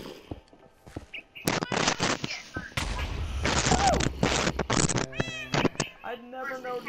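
Cat in the Minecraft video game meowing repeatedly, loud and close, mixed with bursts of game noise and rapid cracking sounds like gunfire.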